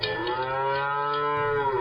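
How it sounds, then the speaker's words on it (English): A cow lets out one long, sustained moo that stays loud and steady from start to finish, with no voices over it. "Moo."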